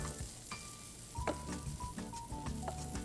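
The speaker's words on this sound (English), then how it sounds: "Now let me give these mushrooms a little bit of a stir." Mushrooms sizzle in a hot pan while being stirred, a steady crackling fry with scraping stir strokes and a few sharper clinks, fairly close and moderately loud with no talk.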